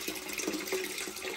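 Water drains out of a steam heating boiler in a steady, gurgling rush that keeps a constant level throughout, close to the listener and alone.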